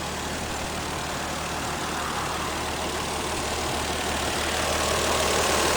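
A 1994 Toyota Supra with a single turbo and wastegate dumping into the downpipe idles quietly at the exhaust, a steady low rumble with broadband hiss, near and constant, with no talking.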